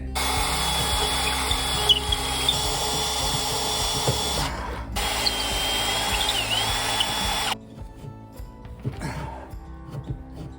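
A power drill bores a hole through the wall of an off-grid cabin, a loud close whine with grinding bites as the teeth grab, pausing briefly once before stopping, then quieter handling noise follows.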